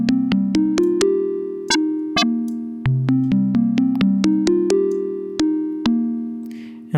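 A Massive X synth plays a sine-wave tone shaped with a phase-modulation attack. A steady run of short plucked notes, each with a sharp click at the onset, rises and falls in pitch through a simple melody.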